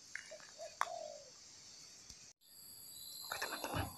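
A spotted dove (tekukur) calls faintly outdoors during a bird hunt, giving a short, soft falling coo with a few distant chirps and rustling noises later on.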